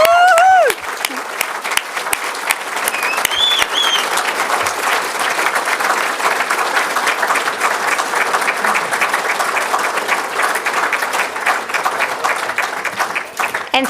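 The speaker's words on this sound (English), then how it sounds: "please stand to send him on his journey with an enormous round of applause to celebrate who he was" Mourners at a funeral service stand and give a long, enormous round of applause, loud and steady clapping from a large gathering, with a voice briefly heard at the start and a few cheers mixed in.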